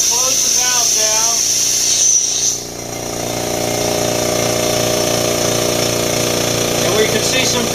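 Makita MAC700 Big Bore 2.0 HP air compressor running, a loud, steady mechanical drone with a dense hum and rattle throughout. It briefly dips in pitch partway through before settling back, and a voice speaks over it at the start.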